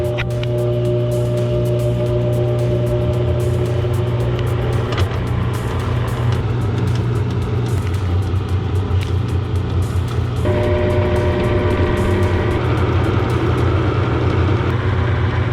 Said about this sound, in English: looks like we're spinning now